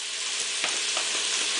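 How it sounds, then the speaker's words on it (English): Goat meat for curry sizzles and crackles steadily in a hot pan, a close, continuous hiss with small pops scattered through it. "your meat has been frying for about 3 minutes"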